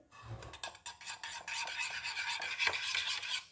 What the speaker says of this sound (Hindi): इन सब चीज़ों को हम इसमें शामिल करके दही में इसको अच्छे से मिक्स कर लेंगे